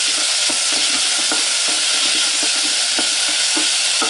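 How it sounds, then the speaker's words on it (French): Tomato and marjoram fry in a pan under a loud, continuous hissing sizzle while a utensil stirs them with quick, irregular scraping taps, close up, with no talking. "On touille rapidos."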